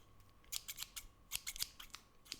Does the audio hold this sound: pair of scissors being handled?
yes